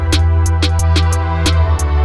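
Steady eighth-note hi-hat pattern from an MPC Live 2 step sequencer, crisp ticks counting one-and-two-and over a sustained low tonal bed, evenly spaced and fairly loud.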